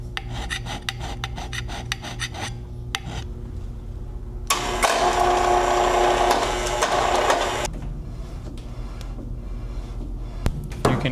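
A new lathe's tailstock is hand-scraped and rocks on its ways, giving a run of short rasping strokes, then a long, louder continuous scrape, then quieter scattered strokes with low-level knocking.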